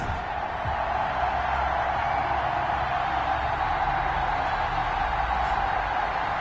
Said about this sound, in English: This crowd is ready as their guys get set to match up between the Tennessee Titans and the Indianapolis Colts.